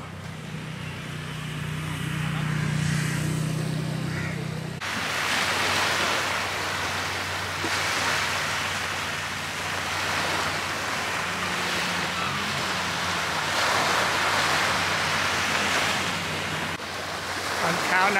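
Sea waves wash steadily on the north beach of Maafushi island in the Maldives, a continuous broad roar of surf with wind, loud and unbroken for most of the stretch, with faint speech underneath.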